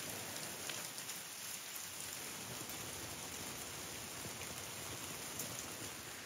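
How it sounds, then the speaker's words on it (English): Steady rain falls outdoors during a multi-day bikepacking trip, a faint, even hiss of drops with no letup and no voices. "Now it's raining."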